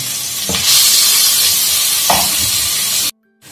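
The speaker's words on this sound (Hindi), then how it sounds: "ऑयल को गर्म करके इसके अंदर मैं ये लहसुन और अदरक डाल दूंगी और इसको थोड़ा सा फ्राई करूंगी" Garlic and ginger frying in hot oil, a loud, close, continuous sizzle with a couple of stirring scrapes, cutting off abruptly near the end.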